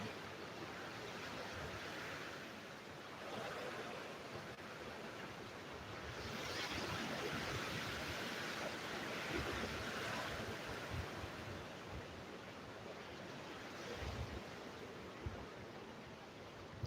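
Strong hurricane wind from Hurricane Melissa roars in rising and falling gusts, a broad rushing noise buffeting the microphone and swelling louder midway, with no voices heard.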